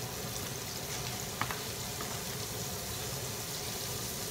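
Tomatoes hit a hot pan and fry with a steady, even sizzle, a low continuous crackle with a faint clink partway through, and no voices.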